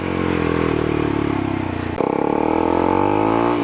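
A Kawasaki Ninja 250SL motorcycle engine drones steadily, then after a brief dip it climbs in pitch as the rider accelerates hard, loud and close throughout.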